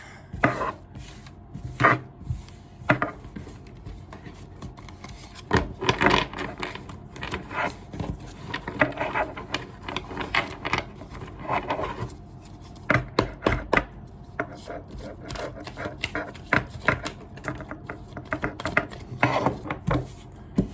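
Tarot cards being mixed and shuffled by hand, a steady run of crisp papery riffles, slides and taps with irregular bursts throughout, close and fairly loud, with no talking.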